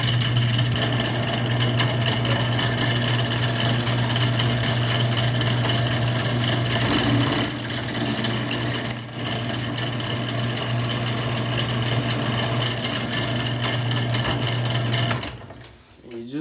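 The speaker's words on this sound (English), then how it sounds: "we're just going to drill until we get the head off of each of these screws" A power drill with a fresh 1/4 inch bit grinds through the heads of stuck scope base screws on a rifle receiver, a loud continuous high-pitched whine that runs steadily before stopping abruptly near the end.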